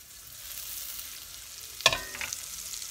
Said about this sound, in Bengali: ভালো করে বাটার গলিয়ে নিতে হবে, আর মিডিয়াম আঁচে গলাইতে হবে, নাহলে বাটারটা পুড়িয়ে যেতে পারে।